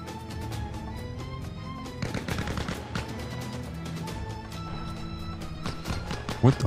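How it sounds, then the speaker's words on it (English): Scattered gunfire in a war simulator video game: rapid dry shots and brief bursts, some clustered together, popping over a steady low game backdrop with no talk. "Shooting coming from the left."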